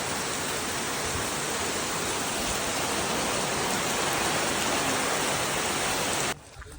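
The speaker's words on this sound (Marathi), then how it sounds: "पाऊस मस्त पडतो आहे" Steady heavy rain falls in a Konkan village, an even, loud, continuous hiss that cuts off abruptly just before the end.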